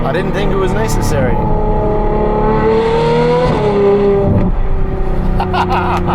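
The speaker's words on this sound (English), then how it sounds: "this car does have our complete race performance exhaust system on it" A Ferrari 812 N-Largo with a Novitec race performance exhaust revs loudly up and down in a harmonic, rising-and-falling wail, close and dominant throughout, with a voice talking over it.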